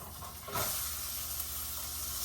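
Steak searing in a hot pan, a loud, steady close-up hiss and sizzle that swells after a brief quieter start and holds through the end.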